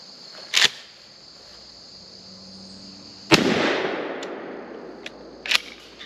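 A 20 gauge field shotgun fires: sharp loud reports outdoors, one early, a heavier blast with a trailing rumble midway and another toward the end, with insects chirping faintly in the background.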